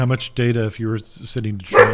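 A dog barks and yips in short bursts, reacting to a doorbell indoors. A voice talks loudly over the barking.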